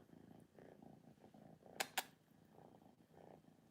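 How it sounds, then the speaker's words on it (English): Soft, rhythmic cat purring close up, pulsing steadily, with two brief sharp clicks in the middle. "Hear her purring?"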